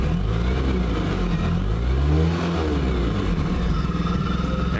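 A 2011 Suzuki AN650 Burgman scooter engine runs on its center stand, revving up and settling back in smooth close swells before dropping to a steady, pulsing idle.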